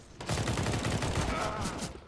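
Rapid bursts of gunfire from a weapon in the CS:GO deathmatch shooter, dense repeated shots lasting throughout at moderate loudness, with faint voices in the background.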